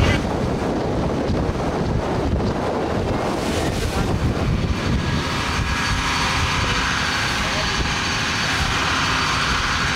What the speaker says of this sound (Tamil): காத்தன்னா காத்து, அப்படி காத்து.